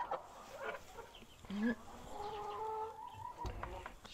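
A Leghorn hen clucks and gives a rising squawk close by, with low murmuring around it in a quiet farmyard setting.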